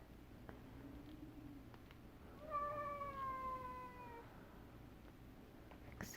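Pet cat Rose whines with a single drawn-out, wavering meow lasting a couple of seconds, fairly close, over a quiet room with no talking.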